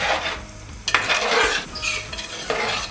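Shallots, dried chillies and curry leaves hit hot oil for a tempering over Kerala chicken curry, bursting into a loud crackling sizzle with a sharp spatter near the one-second mark, then continued bubbling and stirring clatter.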